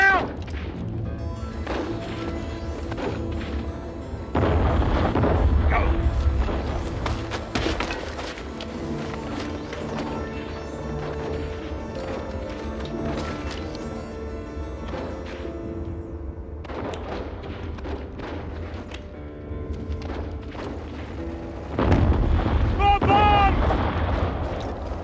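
Repeated heavy explosions and deep booms from bombs in a WW1 Anzac trench battle, loud bursts around 5 and 22 seconds over constant rumbling combat noise and music, with shouting voices throughout.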